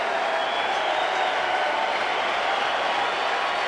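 Baseball stadium crowd at a 1992 Cubs-Astros game cheering and roaring steadily in a dense, continuous wash of noise late in a one-run game.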